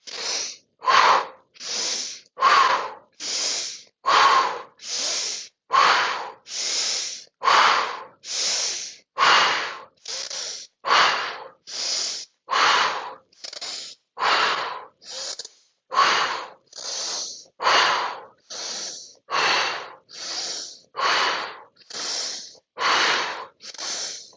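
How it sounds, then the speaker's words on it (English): Deep breathing during a breath exercise, a long regular series of about twenty-five strong inhales and exhales, close and loud, each a rushing airy burst separated by short silences. "Here we go for 20 breaths"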